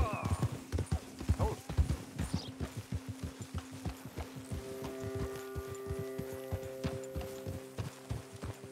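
Horse hooves clip-clopping at a steady walking rhythm in Red Dead Redemption 2, close and fairly loud, with a low droning hum and musical tones rising underneath partway through.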